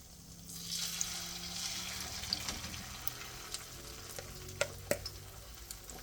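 Shrimp egg foo young frying in a pan, a moderate steady sizzle with small pops and crackles scattered through, heard close without any talk.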